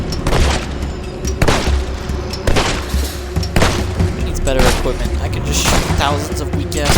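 Repeated gunfire from the Fable II video game as enemies are shot, loud booming shots in quick irregular bursts with a low rumble, and a voice talking over the action.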